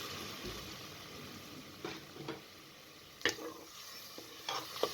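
Scraping, clattering stirring of chicken curry in a metal pressure cooker, with a few sharp spoon knocks over a faint steady sizzle.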